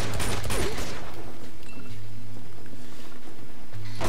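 Gunfire in Uncharted 2: a loud flurry of shots crowds the opening second, then gives way to steady mechanical hum and sparse, fainter pops scattered through the rest.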